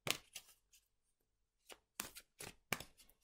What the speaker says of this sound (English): So I'm going to shuffle the cards now that I've asked this question.